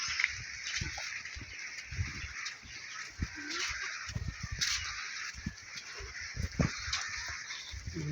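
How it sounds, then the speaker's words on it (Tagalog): Scattered clucks and short calls from fowl at moderate distance, with a steady chirping of insects or birds in the background throughout. "Manok ni Papa."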